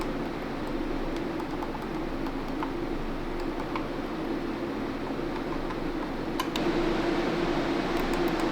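Case fans running inside an ASUS ProArt PA401 Wood Edition PC case: a steady, even whoosh of airflow with a low hum, continuous and moderately loud throughout, without speech.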